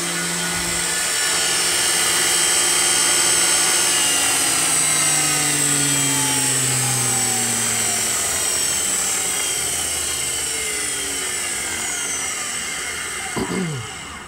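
A Tesla Model S drive unit motor with transmission spins at 10,400 RPM on about 60 volts, giving a loud sustained whine with shifting tonal sweeps, and a brief clunk and drop in pitch near the end.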